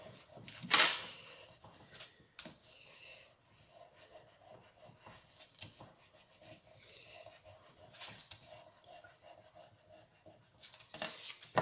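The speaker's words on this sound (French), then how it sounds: "Je vais gommer mon crayon." An eraser rubs pencil marks off a paper or card strip for a round box craft, making soft, intermittent scratchy scrubbing strokes up close, quiet, with one sharper rasp near the start.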